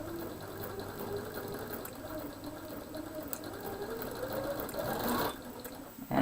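A sewing machine hums steadily while stitching quilt pieces, a continuous close whirr of fast needle strokes that swells slightly toward the end, with soft speech nearby.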